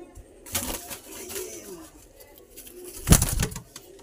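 Old pigeons in a pair coo softly in a pigeon keeper's loft in Bagnan, West Bengal. The low murmuring coos come with scattered rustles and a sharp clatter near the end.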